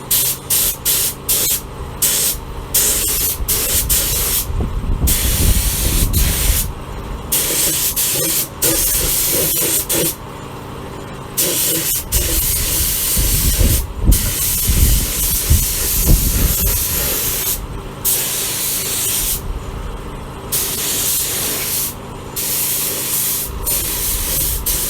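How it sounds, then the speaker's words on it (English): A spray gun hisses loudly and steadily as hard primer is applied to an old Fordson tractor radiator, long bursts broken by brief pauses between passes, with no talking. "this here's the hard primer that I'm putting on. I'm going to put on quite a few layers of this"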